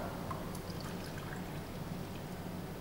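Water poured from a measuring cup into a bread maker pan, a steady, continuous splashing pour at close range with no talking.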